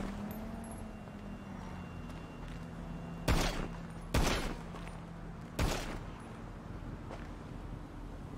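Gunfire from a bank truck heist in a video game, three sharp separate shots spread over a few seconds against a low engine hum and faint ambient background.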